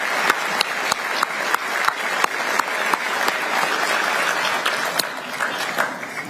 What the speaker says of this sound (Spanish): Pido, queridas amigas y amigos, un aplauso para René